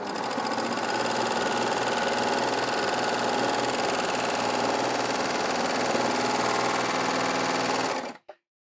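A Baby Lock Enlighten overlocker sews stretchy cotton jersey fabric at steady high speed, a loud continuous mechanical whir lasting about eight seconds before stopping abruptly.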